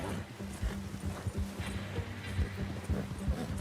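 Horse hooves in the open-world western game Red Dead Redemption 2, a fast, steady clip-clop of galloping under ambient outdoor noise.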